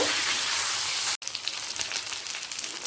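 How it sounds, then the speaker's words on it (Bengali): Fish frying in hot oil in a wok, a dense steady sizzle and crackle that cuts out for an instant, then resumes slightly softer with scattered pops. "মাছটার এক পিঠ ভাজা হয়ে গেছে এবার অপর পিঠটাও ভেজে নেব"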